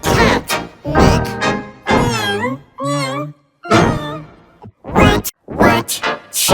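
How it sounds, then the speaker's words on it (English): Cat meows come one after another with short pauses between them, loud and close, with rising and falling pitch. "What sound does a cat make? Meow, meow."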